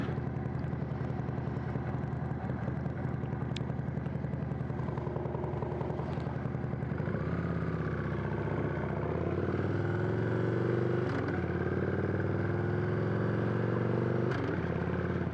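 A modified Victory V92C motorcycle with a 5-speed transmission runs steadily and loudly up close, its engine rumbling continuously with a few brief clicks and clatters through the run.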